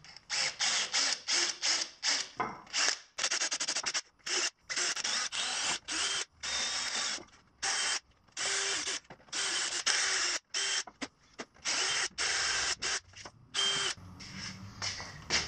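Small drill fitted with a 6 mm bit bores a hole in a rudder mechanism part, running in repeated short whirring bursts broken by brief pauses, close and fairly loud with no talk.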